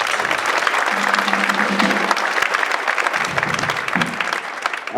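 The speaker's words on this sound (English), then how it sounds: "give those guys another round of applause" An audience at a school winter band concert claps loudly and steadily for several seconds, a dense wash of applause with no talking over it.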